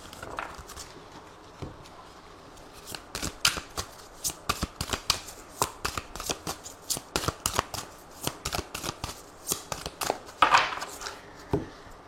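Tarot cards are shuffled by hand, a rapid run of close, crisp riffling snaps and slaps that speeds into a dense flurry, then pauses briefly before a few last taps.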